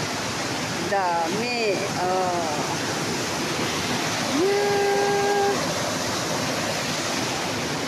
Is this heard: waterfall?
yes